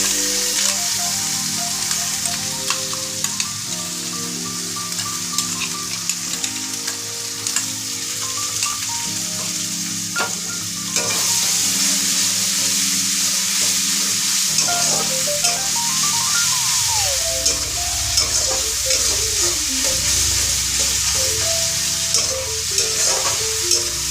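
Onion paste frying and being stirred in a pan, a continuous loud sizzle with scraping spoon strokes and shifting bubbling through the whole stretch, no voices.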